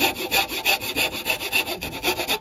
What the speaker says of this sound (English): Hold the rasp level.